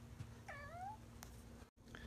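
A cat meows from beneath a rug: one drawn-out, falling meow, then a short faint second call near the end, over a steady low hum.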